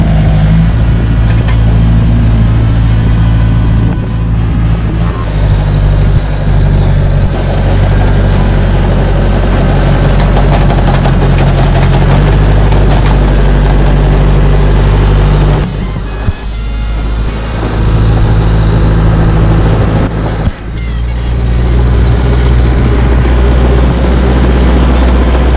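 A tractor engine drones steadily and loudly as it labors in muddy, waterlogged ground on a dairy farm while distributing potatoes, its low rumble shifting in pitch with a couple of brief dips, no voices.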